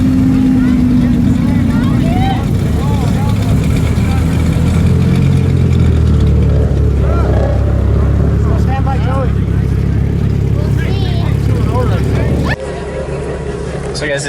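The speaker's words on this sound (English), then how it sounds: "So guys, this is a 700 horsepower 2G GSX." A 700-horsepower second-generation GSX car accelerates hard, its loud engine droning and rising with shifting pitch throughout, while people talk over it and the sound drops off abruptly near the end.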